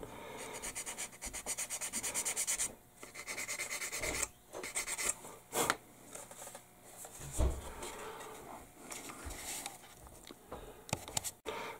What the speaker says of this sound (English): I sanded down this little nub here that goes into there too